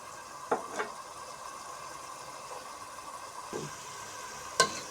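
Fish sautéing in a pan with spice masala and a splash of water, a soft continuous sizzle broken by a few sharp clinks and scrapes of stirring, with no talk.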